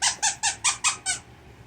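A squeaky pig-shaped dog toy being squeezed six times in a quick, even rhythm, each squeak loud, close and shrill, then silence.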